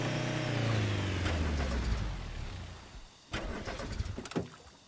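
A car engine in the video game Rust cranks and tries to start, a sustained low mechanical churn that falls away, followed by a few short clunks and bursts near the end.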